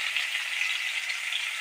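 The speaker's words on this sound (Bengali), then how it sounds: "সুন্দর করে ভাজা করুন।" Potatoes frying in hot oil for a Bengali aloo dum give a steady, continuous sizzling hiss that stays fairly loud and even throughout, with no voices.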